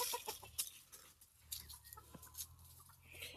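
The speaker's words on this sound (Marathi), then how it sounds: "सर्व कोंबड्या भरपूर दूर दूर पर्यंत बागामध्ये चरायला जाते बरं का" Chickens clucking in a garden, with soft, scattered calls and light scratching near the listener over a low steady rumble, no talk.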